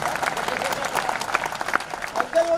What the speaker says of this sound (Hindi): एक बार इसके बालों के लिए ताली बजा दो यार